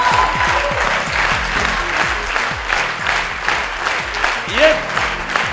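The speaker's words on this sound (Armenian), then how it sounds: "Ջերմ ծափարություններով ճանապարհում ենք" A game show studio audience applauds warmly and steadily, dense clapping close by with a few louder swells and no voices over it.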